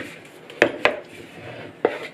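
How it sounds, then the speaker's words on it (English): No-bake Kool-Aid cake batter is stirred in a bowl, a utensil striking the side in three sharp clinks over a soft scraping background. "Now I'm gonna mix it all up in here"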